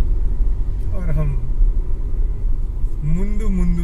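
Constant low road traffic rumble surrounds a Tata Nexon on a road trip through Karnataka, loud and steady, with someone talking over it.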